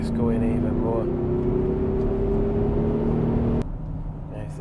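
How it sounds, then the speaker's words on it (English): A 509bhp 4.0 V8 diesel SUV accelerates hard in fourth gear from about 30 mph, with a steady rising engine drone heard from inside the cabin before the note suddenly drops away. "Stamp it, big surge, and then it gets going even more."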